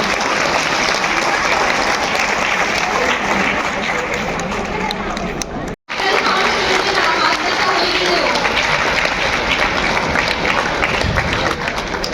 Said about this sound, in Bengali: ভৌত বিজ্ঞানে জোরে হাততালি।